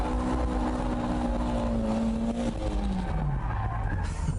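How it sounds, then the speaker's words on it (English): Lowered, underpowered car held in a power drift with the throttle pinned, tires skidding and squealing loudly and continuously, engine note droning and sliding downward near the end. "With these underpowered cars, you just have to keep the gas on to get it into power drift mode."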